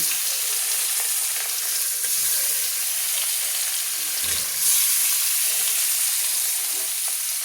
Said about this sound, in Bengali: আমি ম্যারিনেট করা মাছগুলো আমি দিয়ে দেবো